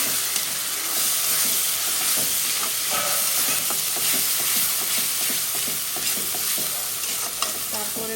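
Ground ginger, garlic and cumin paste frying in a pan for beef chaap bhuna, a loud continuous sizzle and hiss with repeated stirring scrapes and no speech.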